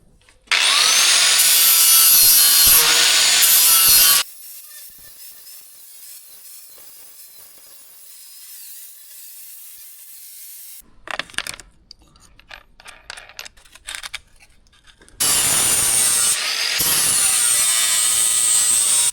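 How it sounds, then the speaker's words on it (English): Metal part being cut to fit with a power tool, a loud harsh grinding burst, a quiet stretch, scattered scraping and clatter, then another long loud cutting run. "Just a little bit of more cutting to do to make it sit nicely"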